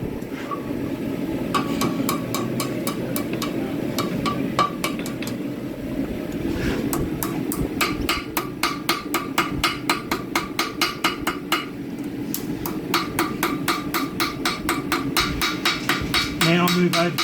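A hammer rings repeatedly on a U-type flint striker over an anvil in a forge, sharp metallic strikes in irregular bursts that speed into a fast steady rhythm, with a low background hum and brief talk.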